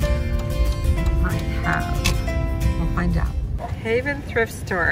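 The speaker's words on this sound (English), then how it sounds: "You can probably hear a dog barking right next to me here." Dog barking outside the Haven Thrift Store, yips and bow-wows mixed into close talk and street background, with short bursts scattered through the scene.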